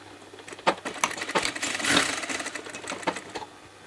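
Pieces of cushion fabric feed through a sewing machine that whirs steadily up close, with a rapid rattling chatter and a few sharper clicks as the stitching goes on.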